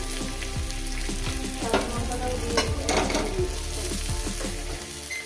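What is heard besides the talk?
eggplant and tomato frying in a pan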